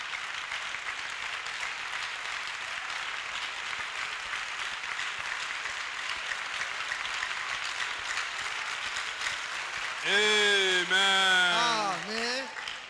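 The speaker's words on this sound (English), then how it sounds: "Clap for Jesus." A church congregation claps steadily through a worship service, a dense, even wash of applause lasting about ten seconds. A voice then comes in near the end over the fading claps.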